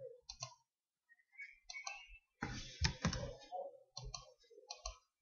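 Scattered mouse clicks while tracing with a lasso selection tool on a computer, quiet and close, arriving singly and in small bursts with short silences between.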